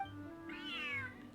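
A cat meows once in the Genshin Impact Feline Fortress Furrdyssey event, a drawn-out, rising-then-falling call heard clearly over a soft steady game background with no talking.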